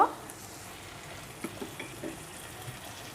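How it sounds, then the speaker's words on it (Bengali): Onions frying in a pan with a piece of cinnamon, ginger and garlic paste for a pointed gourd curry: a soft, steady sizzle with a few faint stirring taps, fairly quiet throughout. "এক টুকরো দারুচিনি দিয়ে দিব তারপর এটা পেঁয়াজের সাথে হালকা একটু ভেজে নিব"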